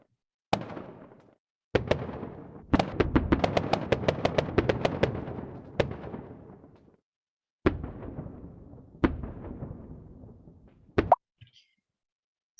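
Fireworks sound effect from a sensory fish app: a series of sharp pops and bangs with crackling tails, clustered bursts followed by single booms spaced apart, heard on their own without talk.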